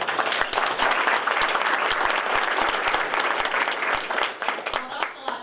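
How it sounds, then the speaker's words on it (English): A big round of applause for FBLA students, with dense, lively clapping that thins out near the end as voices start to come through. "So they deserve a big round of applause"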